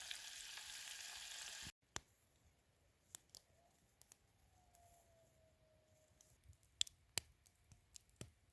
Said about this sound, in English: I'm just frying up some bacon.